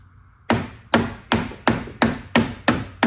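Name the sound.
hammer tapping a wooden piece into a trailer door jamb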